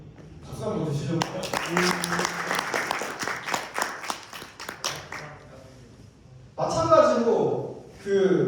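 An audience at a mathematics lecture on persistent homology claps for about five seconds, a close, dense patter of many hands that dies away. Speech follows.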